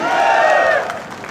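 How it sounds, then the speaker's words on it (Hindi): An audience at a large blood donation camp gathering applauds and cheers loudly. The dense, steady roar of clapping and shouting swells, then tapers off within about a second. "जोरदार तालियां, दोनों हाथ उठा करके।"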